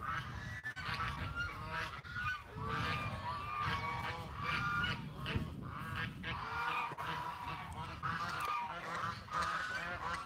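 Ducks and geese honk and quack in a dense, continuous flock chorus, loud and close throughout, with no clear talking over it.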